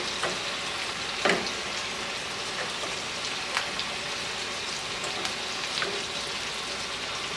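Cream cheese and heavy whipping cream sauce bubbling on a stove burner at medium low heat, a steady soft sizzle with occasional faint pops and clicks.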